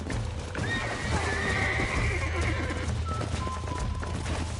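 A horse in Red Dead Redemption whinnies loudly in a long, wavering neigh, with hoof clip-clops and a low rumble of game ambience underneath.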